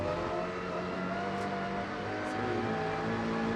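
A TCR touring race car runs downhill on the Macau street circuit in qualifying. Its engine holds a steady, loud drone, fairly close by, for a few seconds.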